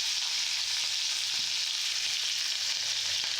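Ginger, green chili and onion frying in a pan, giving a steady, hissing sizzle close by throughout, with no talk.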